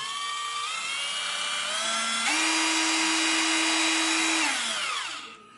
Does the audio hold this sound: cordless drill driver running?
yes